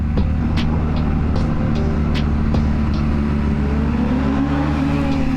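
A motorcycle engine on the road makes a loud, steady, continuous drone, with faint clicks and ticks over it and no break in the sound.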